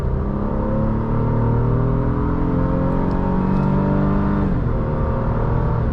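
A 2023 Honda Pilot TrailSport, the off-road trim, pulls hard on the highway, its engine note climbing steadily under a constant roar of road and wind noise, close and loud with no talking.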